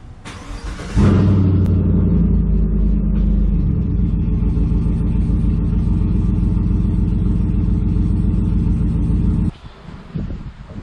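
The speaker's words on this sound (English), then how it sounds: "I'm gonna go ahead and turn on the truck, put it in reverse" A 2018 GMC Sierra pickup engine turns over and idles steadily with a deep, loud rumble for several seconds, then cuts off abruptly near the end.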